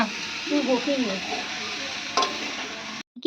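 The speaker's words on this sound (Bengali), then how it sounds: "কড়ার মধ্যে তেল দিয়ে মোচা আর আলুটাকে খুব ভালোভাবে ভেজে নিচ্ছে" Boiled banana flower and potato fry in oil in a wok, a close, steady sizzling hiss with stirring scrapes and a brief muffled voice early on, cutting off abruptly near the end.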